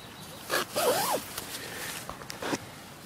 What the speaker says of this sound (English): you can unzip this with one hand